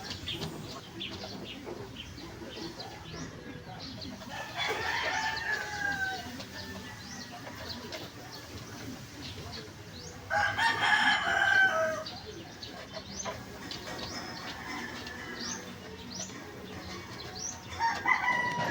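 Rhode Island chickens on a free-range farm keep up steady clucking, and a rooster crows loudly twice in longer rising calls, with rustling and faint wing flaps in the background.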